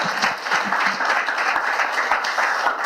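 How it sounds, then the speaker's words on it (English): Audience applause greets a speaker at a cryptography conference talk, brisk clapping from a modest crowd that stays steady and fairly close for about three seconds. "Please give him a round of applause."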